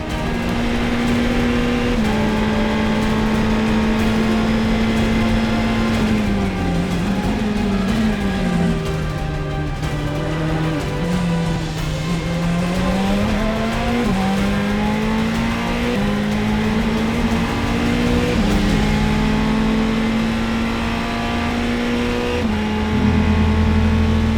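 A Ferrari 488 GT3 Evo race car engine drones steadily and loudly, with rising and falling revs through gear changes as it circles the track alongside a Mercedes race car, heard from close range without talk.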